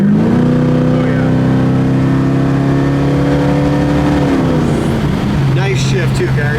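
A 1973 Camaro accelerates hard as the automatic transmission kicks down, the engine note rising loud and close, then dropping at the upshift, with people talking inside the car.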